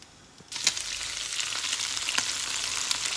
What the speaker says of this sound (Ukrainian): А цибульку нашу, а цибульку нашу помішаємо.